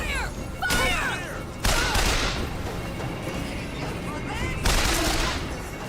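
Gunfire in the first-person shooter BioShock Infinite: three sharp, loud bursts of shots spaced a few seconds apart over a busy background of combat noise and faint chirping effects, with occasional voices.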